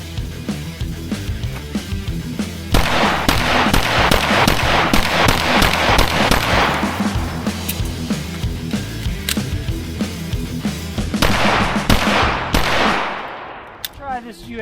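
An HK VP9 pistol fired at a shooting range in a fast string of sharp, loud shots that cracks out close by for about ten seconds, with spaced shots at the start and finish.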